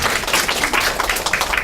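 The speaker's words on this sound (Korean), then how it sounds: "박수" A lecture audience applauds after a student group presentation in a university class: steady, fairly loud clapping from many hands for a short stretch, with no one speaking.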